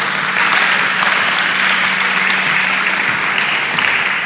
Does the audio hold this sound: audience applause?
yes